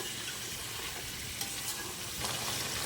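Beef pieces sizzle in hot ghee in a karahi over high flame, a dense, continuous crackling fry close up, with faint stirring scrapes and no talking.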